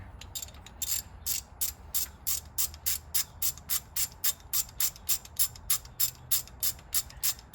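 A hand ratchet clicks in quick, regular bursts, about twenty strokes, while loosening 10mm bolts on a Ford Mustang V6 engine during an overhaul. The clicks are close and crisp over a quiet background with no talk.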